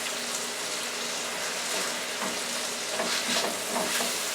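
Tomatoes fry in olive oil in a pan, giving a steady, soft sizzle with faint crackles and pops throughout, no voices over it.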